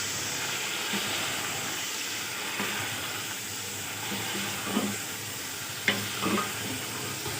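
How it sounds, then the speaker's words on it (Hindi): Steady hiss of chicken frying in a pan fills the background with occasional scraping stirs and clinks, close and moderately loud, no voices. "अब इसको हमने तब तक फ्राई करना है जब तक इसका कलर चेंज नहीं होगा।"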